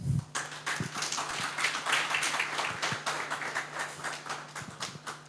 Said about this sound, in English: can we just give a round of applause for our two panelists here with Brenda and Rogers